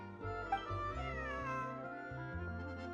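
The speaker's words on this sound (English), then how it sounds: "I believe this cat belongs to me." A cat meows in Genshin Impact, a short soft mew heard over continuous game background music, with no talking.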